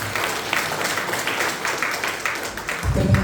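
Members of a church congregation clap together at a Christmas service, a dense, ragged burst of applause from a crowded hall that swells toward the end.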